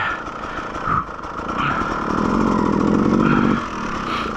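A Beta 200RR enduro motorcycle engine running on a rocky hard enduro trail, a steady mid-pitched drone that rises in a sustained rev toward the middle before easing back.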